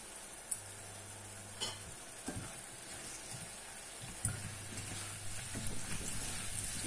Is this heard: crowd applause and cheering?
no